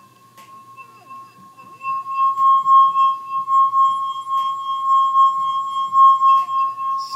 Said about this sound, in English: So there we're having the glass vibrate at its natural frequency.